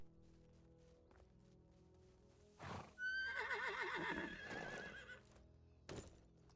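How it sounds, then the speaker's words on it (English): Horse in the medieval survival game Medieval Dynasty, a loud, quavering whinny that rises and wavers for about two seconds, preceded by a short snort and followed by soft hoof clops against a quiet background. "Grab the horse"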